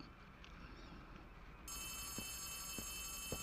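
Telephone ringing in the video game Poppy Playtime Chapter 3, a steady electronic ring that begins partway through and continues over low ambient noise.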